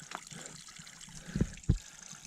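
Water from a spring on the Appalachian Trail trickles and splashes quietly in a steady flow, broken by two louder splashing bursts late on, with no talking.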